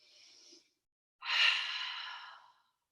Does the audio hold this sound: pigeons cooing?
no